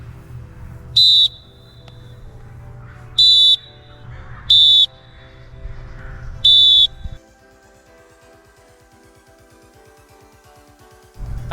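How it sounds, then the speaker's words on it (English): A referee's whistle blown in four sharp, loud blasts signalling a direct foul in soccer, evenly spaced over several seconds, with a low steady hum beneath that drops away near the end. "Blow the whistle and point in the direction the tack is going to go"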